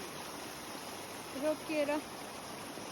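A waterfall stream in Glencoe, Scotland, rushes in a steady, moderately distant wash. A voice speaks briefly over it.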